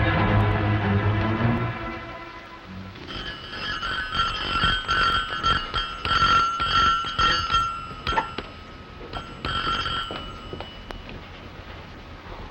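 A household service bell in a 1950 radio drama rings in a series of bright, repeated metallic bursts after a quieter opening, continuing irregularly to the end.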